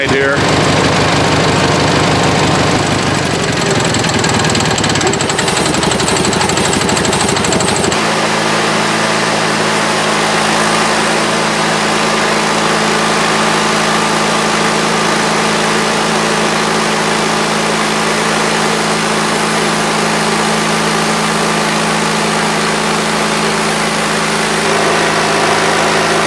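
The engine of a Mighty Mite bandsaw mill drones steadily and loudly for the whole stretch, its tone dropping and settling partway through as the load changes, with no voices over it.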